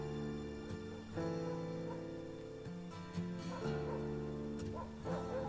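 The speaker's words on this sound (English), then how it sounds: "Barking dogs, that's nice." Dogs barking within an album, heard as brief yips and whimpering woofs layered over sustained guitar and synth tones, steady and moderately loud through the music.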